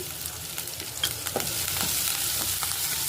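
Chopped green chillies fry in oil with mustard seeds and cumin, a soft steady sizzle broken by scattered light pops and stirring taps, fairly quiet and close, with no voices.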